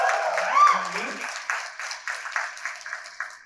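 Conference audience clapping at an education event in Dubai, a scattered run of claps that grows uneven and broken, with a voice talking over the start.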